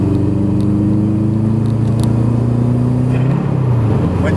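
A manual car with a five-speed gearbox pulls hard in first with a loud, steady engine drone that rises in pitch, then eases gently into second. No voices are heard.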